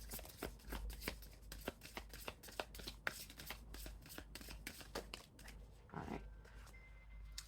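Oracle cards being shuffled and drawn, a steady run of soft, close riffling flicks and slaps at a brisk rhythm, quiet and without speech.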